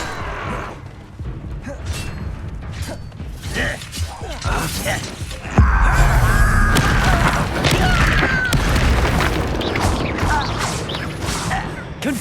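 Confringo and Incendio spell blasts in Hogwarts Legacy come as a series of cracks and booms over a dense game soundscape. A voice speaks in the middle, and a heavier rumbling burst swells about halfway through.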